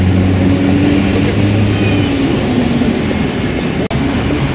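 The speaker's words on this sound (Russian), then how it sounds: "Электричка поехала." An electric commuter train pulls away from a station in Ryazan: a loud, close rumble with a steady motor hum that fades after a couple of seconds, leaving rolling wheel and carriage noise.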